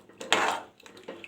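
Chopped bottle gourd, yellow pumpkin, tomato and onion being stirred in a pot, heard as close scraping and clattering in a couple of short bursts with a quieter pause between.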